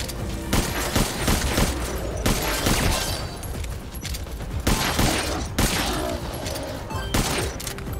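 Weapon fire in Metal Gear Survive during a zombie horde attack: loud, dense bursts of gunshots in rapid succession with sharp cracks and booms, continuing throughout.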